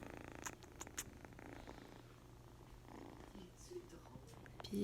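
A newly adopted cat purrs softly and continuously, very faint and close, with scattered small clicks and rustles around it.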